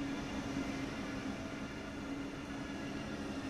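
A train in Train Sim World 2 gives off a steady, even rumble with a constant low hum, unchanging throughout and heard alone with no voices.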